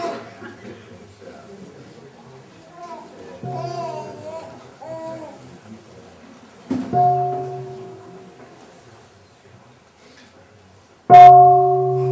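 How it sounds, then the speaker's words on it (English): A bell is struck a few times to signal the end of a break at an Israeli-Palestinian retreat, each ring clear and sustained, with soft children's voices and chatter in the background. "when you hear the bell, we'll come back here"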